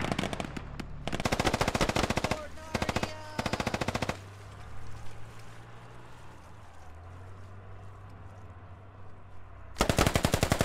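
Mortar fire in the video game Squad, with bursts of rapid heavy booming shots near the start and again at the end, separated by a low rumbling lull, loud and close.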